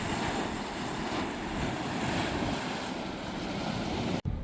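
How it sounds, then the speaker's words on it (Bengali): The Churning Cauldron thermal pool in Yellowstone churns with a continuous, loud, broad rushing and roiling of water, heard up close with some wind buffeting and no voices. "এই জায়গাটাকে বলছে চার্নিং ক্যালড্রন। আরেকটা কড়াইয়ের মতো, এবং সেখানে বেশ জোরে জোরে চার্ন করছে।"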